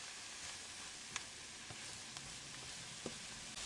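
Cabbage pie filling stewing in a pan, a steady soft sizzle and bubbling hiss throughout with a few small pops and clicks, quiet and close, no voices.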